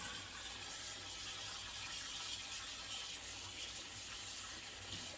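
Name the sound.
rinsing strawberries under running tap water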